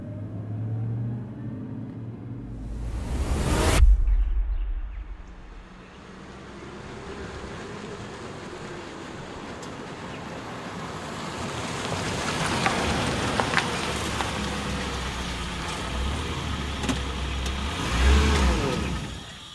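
Car drives along a rough, unpaved village road with a sustained engine rumble and rattling, rain-like noise from the surface, a loud burst near the start and bumps toward the end, no voices.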